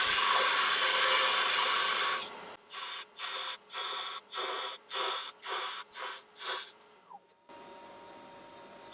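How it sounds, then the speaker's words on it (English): A parting tool cuts into a spinning wooden blank on a lathe. A loud, harsh shearing hiss lasts about two seconds, then breaks into a rhythmic run of eight short cutting bursts separated by brief quiet gaps. "So the tin parting tool, I'm just going to go in about 1/4 of an inch, roughly, give or take."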